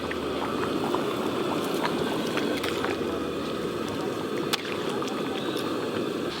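Chicken gravy bubbling at a steady boil in a cooking pot, a continuous low simmering rumble with occasional soft pops and clinks, fairly close and with no talk over it.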